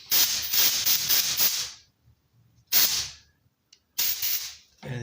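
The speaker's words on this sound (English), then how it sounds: "and with the compressed air" Compressed air blasts in three loud hissing bursts, cleaning a jet from a 300cc lawnmower carburetor. The first burst is longer and pulsing, followed by two short sharp ones with near silence between them.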